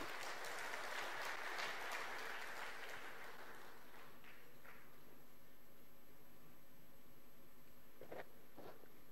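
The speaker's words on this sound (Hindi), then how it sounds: "पूरे प्रदेश भर के किसान इस समय माननीय मुख्यमंत्री जी का जोरदार तालियों से स्वागत कर रहे हैं" Farmers clapping loudly to welcome the chief minister at a statewide event, with a broad burst of applause that tapers off after a few seconds into quieter background noise and a few scattered claps.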